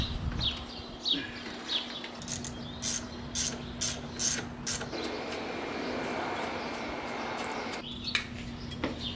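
A ratchet with a 7mm socket tightens hose clamps on a carbon inlet pipe for an FL5, giving rapid clicking bursts in a steady rhythm, close and fairly quiet, with a faint constant hum underneath.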